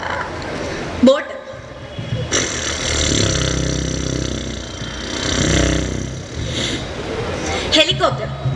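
On stage at a school arts festival mimicry contest, a voice imitates a motor boat with a rumbling engine drone that rises and falls in swells, punctuated by short sharp bursts at the start and end.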